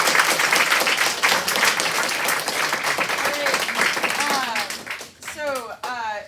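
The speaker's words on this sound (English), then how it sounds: "Let's give one more round of applause." Loud, dense audience applause from a school group of sixth to eighth graders fills the space, then thins and breaks up near the end as voices start talking over it.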